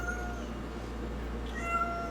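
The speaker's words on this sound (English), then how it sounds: "there is a cat stuck in the vent right now" A cat trapped inside a vent meows, its faint, muffled calls drifting over a steady low hum with no one speaking.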